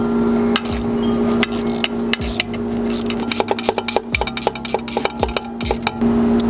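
Metal clicks, taps and clinks come in irregular bursts as bolts are tightened on all four corners of the seal plate on a 2 horsepower Whisperflo pool pump motor, close and alone, with steady background hum.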